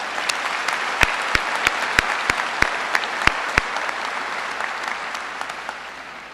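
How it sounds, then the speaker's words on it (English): Applause at a high school graduation, a steady patter of clapping with a series of sharp, loud claps or thumps punctuating the first half before the sound gradually thins out. "Let's give them one more round of applause."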